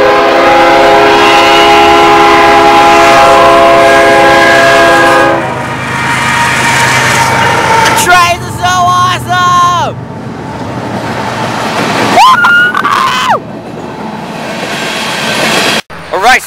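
A loud train rumbles past up close with a long sustained horn blast, followed by clattering wheels and a few shorter horn calls as it moves on.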